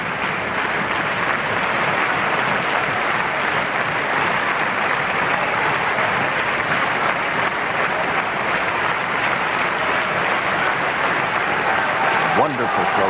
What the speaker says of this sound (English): And rhythmic applause.